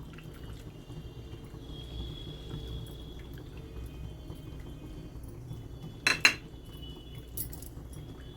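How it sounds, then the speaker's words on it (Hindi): Thick raw mango gudamba being stirred in a pot, a soft low bubbling and faint scraping under a quiet background, with a couple of brief sharp clinks of the spoon against the pot. "अब हम इसको कंटिन्यू चलाते रहेंगे क्योंकि अब ये गाढ़ा होगा।"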